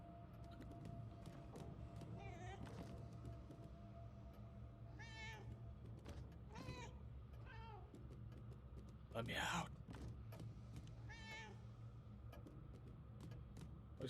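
A cat in the game Murdered: Soul Suspect meows repeatedly at irregular intervals, with a steady hum behind it and someone talking in between.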